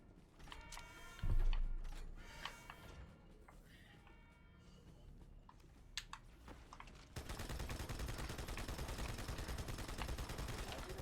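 SMG fire in the video game Halo 2, Cairo Station level: scattered shots and impacts, then a sustained rapid automatic burst running for several seconds, all fairly quiet.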